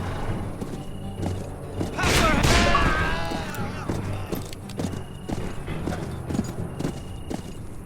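A horse in the Western game Call of Juarez: Bound in Blood gives a loud snorting whinny, then hooves clip-clop through the rest of the scene. Background ambience and game voices can be heard.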